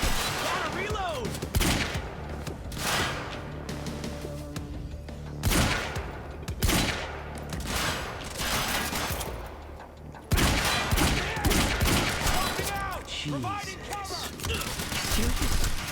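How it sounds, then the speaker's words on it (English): Submachine gun fire in the video game Quantum Break: dense, rapid bursts of automatic shots crackle and echo across the whole stretch, breaking off briefly and then resuming, with game voices talking over the shooting. "Submachine gun."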